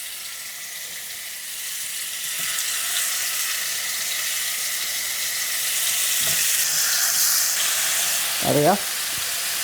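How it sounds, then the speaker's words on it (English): Tandoori lamb chops sizzle in a pan of hot oil, a continuous close hiss that holds steady throughout. A brief spoken remark comes near the end. "Hear that sizzle?"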